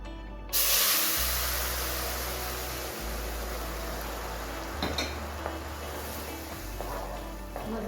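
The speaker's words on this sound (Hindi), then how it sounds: "अब हम इसके अंदर चाश डाल देते हैं।" Sugar syrup is poured into browned semolina halwa in a hot pan and bursts into a loud, sudden hissing sizzle that continues steadily, with a few faint clinks of utensils.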